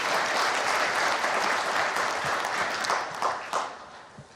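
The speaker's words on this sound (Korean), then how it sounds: "이 특별 기도해 주신 모든 분들께 다시 한번 뜨거운 박수 부탁드립니다." Steady, dense applause from a large congregation at a national prayer breakfast, sustained for several seconds and then tapering off at the end.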